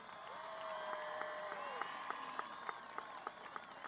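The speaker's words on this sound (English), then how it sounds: "Please give them a huge round of applause." Applause from a high school graduation crowd honoring the class of 2022 seal recipients, fairly distant and steady, mixed with cheering, whistles and a rhythmic clap pattern emerging.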